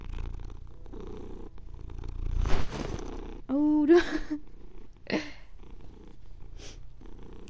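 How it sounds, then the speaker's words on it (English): A pet cat named Willow purring close to the microphone with a steady low rumble, while a person speaks briefly over it. "Willow, I can hear the purrs."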